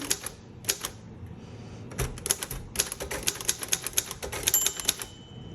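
Steady clacking of a 1957 Royal Aristocrat manual typewriter's keys, crisp sharp strikes in an uneven rapid rhythm, close by with no talking.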